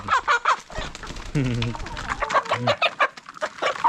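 Native chickens clucking close by as they are let out of their coop on a layer farm, a flurry of short overlapping clucks with a few longer calls among them.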